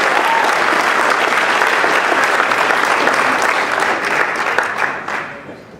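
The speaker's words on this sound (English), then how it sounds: "How about a round of applause for Kirk for the great job that he did up here?" A large audience at a Coaches for Cancer benefit event applauds Kirk in dense, sustained clapping that stays loud and steady before tapering off near the end.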